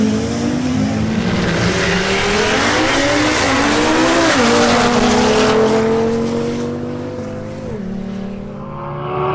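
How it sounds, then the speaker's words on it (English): An Audi RS3 on a drag strip accelerates hard, its engine note climbing through gear changes with a brief tire squeal, loud and close before fading slightly at the end. "Next up, Ronald Chavez makes another run in his Audi RS3."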